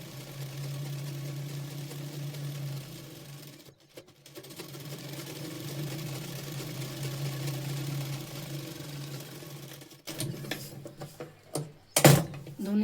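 A sewing machine stitches a blouse lining with a steady, humming mechanical whir. It runs close and continuous, pauses briefly, then resumes before ending in a few clattering handling knocks, with no voices.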